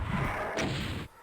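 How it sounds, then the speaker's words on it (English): The super shotgun fires in a video game, a single booming blast with a brief crash that carries for about a second. "finally I can get the super shotgun"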